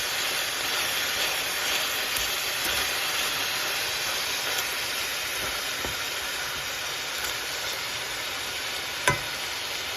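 Minced beef being stirred in a pot over high heat, a steady broadband sizzle and scraping that runs unbroken throughout, with one sharp knock near the end and no voices.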